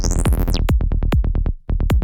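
A psytrance synth is chopped by Gross Beat gating in FL Studio into rapid, evenly pulsing stutters after a sweeping tone, with one brief drop-out before the chops resume, loud and upfront.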